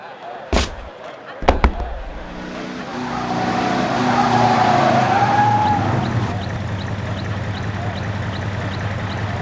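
A car in the PlayStation game Dukes of Hazzard II: a couple of sharp bangs, then a loud revving engine sweeps up as tires squeal and skid, easing into a steady engine hum with faint ticking. Game voices talk at times.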